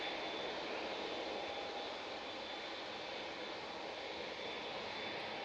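A departing jet airliner roars steadily on the runway at Manchester Airport, a broad, continuous engine rush heard from a distance that holds at an even level throughout.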